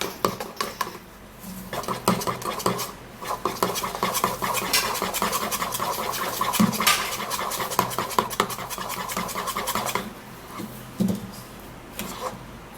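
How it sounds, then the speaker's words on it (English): Banana hair mask mixture stirred briskly in a bowl: a steady, rapid clatter of a utensil against the container, close and fairly loud, that slows near the end, with no voices. "then you have to stir it really great"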